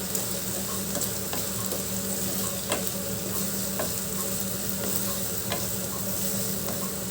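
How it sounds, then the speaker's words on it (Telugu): Semiya upma ingredients, salted, fry in a pan with a steady close sizzle and regular light scraping ticks from stirring throughout. "అన్నీ వేసి బాగా ఫ్రై చేసుకుందాము."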